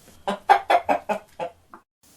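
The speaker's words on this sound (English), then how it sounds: "And the hen laid a golden egg." A hen clucks in a quick run of about six rhythmic, close clucks, followed by one softer cluck and then quiet.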